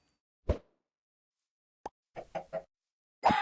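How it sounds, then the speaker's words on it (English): Short clucks and plops from a chicken in Minecraft with the Cobblemon mod. A few separate bursts sound close against silence, including a quick triple cluck. "You need to sacrifice a chicken, so we're gonna throw this guy down."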